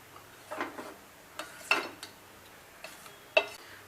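Spoon stirring milk and rice kheer in a pot, a few soft scraping and clinking strokes spaced irregularly, quiet and close, with no talk.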